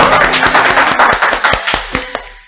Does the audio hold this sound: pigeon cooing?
no